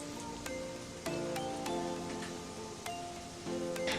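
Potato pinwheels fry gently in a pan over medium heat, giving a quiet continuous bubbling sizzle with faint tonal hums and a few soft ticks, heard close and alone without talk.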